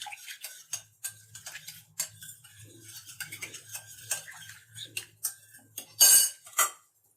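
Powdered milk being mixed in a bowl with a spoon for pizza dough, a run of quick metallic taps and clinks of spoon on bowl, uneven in rhythm, ending in a few louder scrapes.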